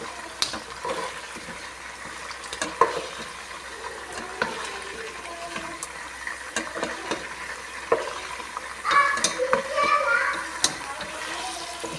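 Pieces of chicken frying in hot oil while being stirred, a steady crackling sizzle with clinks of a spoon against the pan, brighter spattering bursts near the end.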